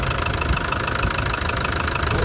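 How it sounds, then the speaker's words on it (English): The 300Tdi diesel engine of a 1998 Land Rover Defender 110 idles steadily and smoothly up close, a constant low rumble with a faint rhythmic knock and no other sounds. "it's a pretty quiet motor actually compared to most 300 TDIs. It idles perfectly"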